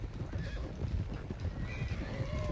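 In the Red Dead Redemption 2 video game, a horse whinnies over a close, continuous patter of hooves clip-clopping, with a second high neigh near the end and no voices.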